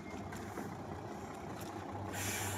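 A trailer truck runs steadily with a rough, low engine drone, close and continuous, and a hiss of air brakes rises near the end. No one speaks.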